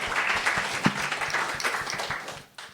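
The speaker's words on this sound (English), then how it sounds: "Let's give her a round of applause." An audience at a quantum Bitcoin panel gives a short round of applause, a dense crowd clapping that fades out at the end.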